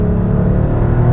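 Air-cooled six-cylinder boxer engine of a Porsche 911 (964), 250 hp, revving with a steady, dense low rumble that holds loud and even throughout, with no voices.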